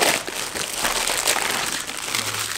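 A sealed US military MRE ration packet is torn open by hand, with continuous loud crinkling and crackling of stiff plastic wrapping close up.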